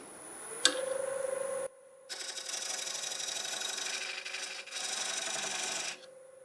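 Black locust wood being cut during wood turning, a steady rasping, grinding cut in several sustained bursts separated by brief pauses, close and fairly loud, with a faint machine whine between them.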